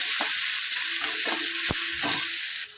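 A mixture with crushed chili thecha is stirred and sautéed in a pan, a steady close hiss of sizzling broken by a few spatula knocks and scrapes, with no speaking.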